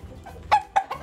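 A fighting rooster at a Bali gamefarm gives a few short, close clucks in a quiet setting, spaced irregularly across about a second.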